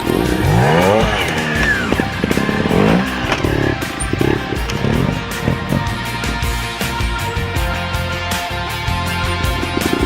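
A trial motorcycle engine revs and blips in sharp, rising bursts, close and loud, with uneven throttle pulses as the bike and rider keep moving forward over obstacles.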